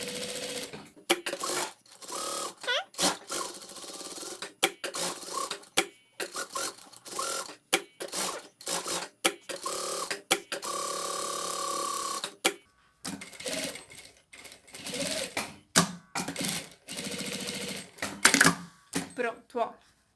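A sewing machine stitches around a fabric handbag in repeated short bursts of rapid mechanical whirring separated by pauses, close and clear, with someone speaking Portuguese between runs.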